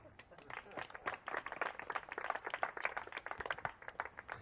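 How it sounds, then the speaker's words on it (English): Live audience at a mentalism show clapping their hands, a dense, steady patter of many claps at moderate distance, with some voices mixed in. "everyone starts clapping their hands now"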